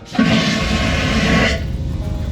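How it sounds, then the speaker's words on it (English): A cruise ship interior cabin toilet on the Carnival Firenze flushing, a sudden loud vacuum whoosh that roars for over a second, then cuts off into lower residual rumble. "Got the amazing toilet, and if you flush it,"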